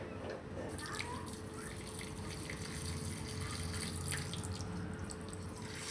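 Water poured from a vessel into a pan of sugar to make syrup for an Adadiya sweet, a steady splashing, trickling flow heard up close over a few seconds with no talking.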